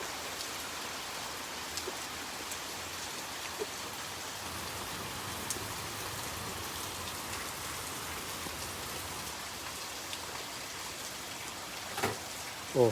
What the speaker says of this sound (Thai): มาดูฝนตก